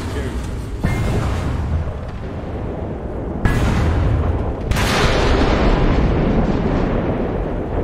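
Heavy naval guns firing during a War Thunder ship battle, with sharp loud booms near 3.5 and 4.7 seconds over a constant roar of engine and battle noise.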